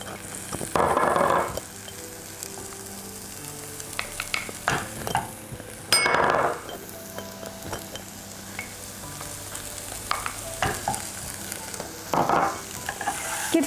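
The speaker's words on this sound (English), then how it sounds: "So all the fresh herbs should be coated with the oil and onion mixture and the spices" Fresh herbs stirred into sizzling oil with onion and spices for Saudi sanboosak filling, a steady fry with scraping stirs swelling in several louder bursts, no voices.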